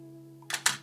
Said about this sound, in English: Now let's try a slower shutter speed, 1/8.